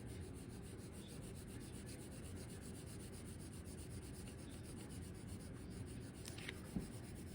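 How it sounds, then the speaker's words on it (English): A marker rubs steadily across paper while coloring in a cartoon Gengar drawing, producing a soft, continuous scratchy scrubbing close by with no voices. "I'm using a marker because I can't find a darker colored pencil for his foot."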